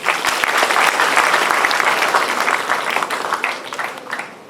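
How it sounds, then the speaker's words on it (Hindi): Audience applause at an event of St. Xavier's College of Management & Technology in Patna, a dense, steady wash of many hands clapping that carries on throughout and thins slightly toward the end. "हम सब लोग तालियां बजाकर बधाई दें"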